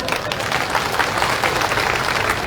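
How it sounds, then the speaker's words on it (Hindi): Crowd at a political rally in Gwalior applauding steadily. The dense clapping stays at an even level throughout, with no break or pause. "तालियां महिलाओं के लिए क्यों नहीं बजा रहे हो?"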